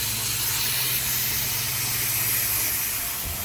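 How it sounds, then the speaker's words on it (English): Viper pan cleaner sprays steadily onto an HVAC coil and drain pan, a continuous close hiss lasting the whole stretch over a low mechanical hum. "we'll spray it down with some Viper pan cleaner"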